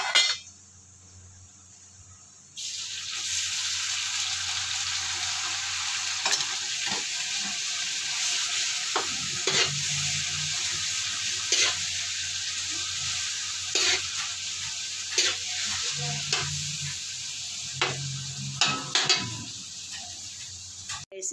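Ground pork sizzling and frying in annatto oil for pancit Malabon, a steady broadband hiss after a brief quiet start, with scattered stirring scrapes and clicks of a utensil in the pan.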